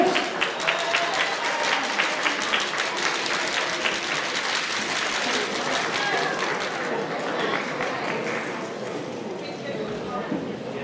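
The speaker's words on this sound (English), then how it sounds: "ladies and gentlemen, give them a round of applause." An audience applauds juvenile dance couples at a ballroom waltz competition semi-final, with brisk, sustained clapping that thins out partway through as a voice speaks over the crowd.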